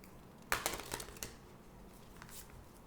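Oracle cards are shuffled and one is drawn during a tarot reading, giving a quick riffle of papery flicks and snaps, then fading into quiet room tone.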